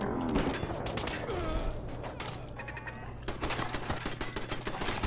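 Turret fire in the game Horizon crackles as dense bursts of rapid shots, quieter early on and then louder and more continuous in the final seconds, with other game sounds mixed in.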